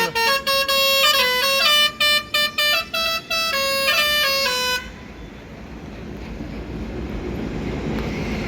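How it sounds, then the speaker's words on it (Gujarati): A 15-metre luxury AC coach bus sounds its musical horn, a loud rhythmic series of bright tooting notes in a repeating melody, then stops, leaving steady outdoor wind-like rumble. "આ દેખો હોરન"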